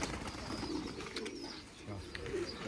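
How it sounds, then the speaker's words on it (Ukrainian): Domestic pigeon cooing softly in a loft, a few low burbling coos under faint background rustle and a bit of quiet human voice. "Це голубя."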